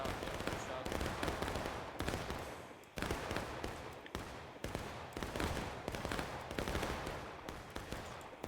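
Dense musket volleys from a 190-player Civil War battle game aimed at Union troops, sharp overlapping cracks rolling on continuously with brief pauses, loud and crowded under a faint murmur of voices.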